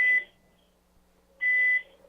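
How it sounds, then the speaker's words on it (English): An electronic beep sounds twice in a quiet hotel room at night, two short, loud, steady tones about a second and a half apart, with silence between them. "I just keep hearing this beeping noise"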